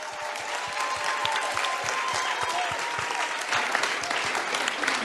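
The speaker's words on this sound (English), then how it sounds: "We'll give him a round of applause." A room full of people at a Melave Malka gathering breaks into steady, close applause for a guest, a thick continuous clatter of many hands that holds at even volume.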